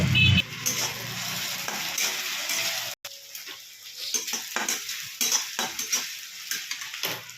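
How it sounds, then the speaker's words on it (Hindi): Potatoes frying in hot oil in a kadhai, a close sizzle with frequent metal spatula clinks and scrapes against the pan in an irregular stirring rhythm. "कढ़ाई में मैंने तेल डाल दिया है, तेल मेरा गर्म हो गया। इसमें अभी हम आलू डालेंगे।"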